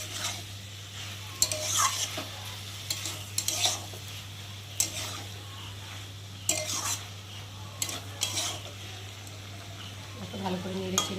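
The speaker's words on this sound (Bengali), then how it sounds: "ভালো করে নেড়ে ছেড়ে নিয়েছি।" Bhola fish with chili powder, ginger, garlic and spices being stirred in a pan: scraping, clattering utensil strokes come in irregular bursts over a soft sizzle and a steady low hum.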